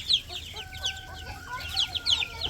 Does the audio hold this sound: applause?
no